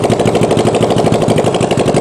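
A Honda CB450 engine fitted to a go-kart runs steadily close by, a loud, fast, even chatter of firing pulses with no breaks and no voices.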